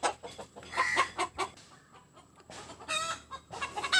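Country hens cluck noisily after laying eggs on a small farm, a close, busy run of repeated squawks and clucks in bursts with a short lull midway.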